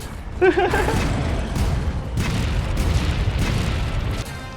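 Booming cannon fire aimed at the giant Zorah Magdaros in Monster Hunter World: Iceborne: heavy, rumbling blasts rolling one after another under constant battle noise, with a short vocal-like burst near the start.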